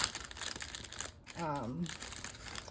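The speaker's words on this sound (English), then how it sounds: "sorry for the crinkling" Plastic packaging on faux leather items from a Dollar Tree haul crinkles in short rustling bursts throughout, while a voice talks over it partway through.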